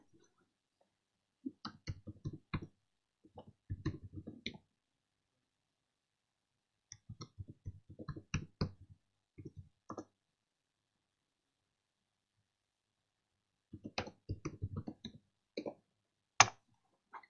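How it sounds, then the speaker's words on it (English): Keys tapped on a computer keyboard while entering an email address for a Gmail account, heard as quiet clusters of quick clicks in several separate bursts with pauses between them. "So I'm going to type in my email address."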